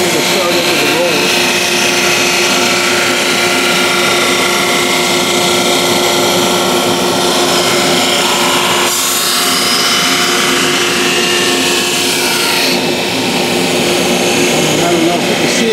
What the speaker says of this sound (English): I'll fire up the drum sander and we'll prepare these.